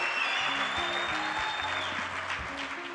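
Audience clapping at a live acoustic song performance, a dense wash of applause heard continuously, with sustained musical tones and a faint whistle sounding above the clapping.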